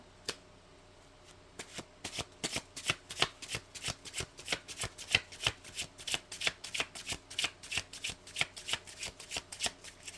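Tarot cards being shuffled by hand, a rapid run of crisp riffling snaps and slaps repeating steadily and close up, with no voices.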